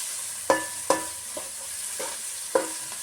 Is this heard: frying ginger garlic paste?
yes